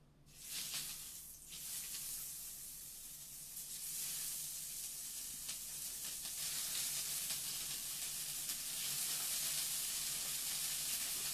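Pork chops hit a hot cast iron skillet and break into a loud broad sizzle that builds and holds steady, close and continuous with no talk.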